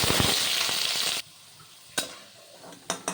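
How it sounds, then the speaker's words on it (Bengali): Potato pieces lightly frying in hot oil give a loud, busy sizzle for about a second, then cut off into near quiet broken by a few short bursts of crackle. "আলুগুলো একটু হালকা ভেজে তুলে নেব"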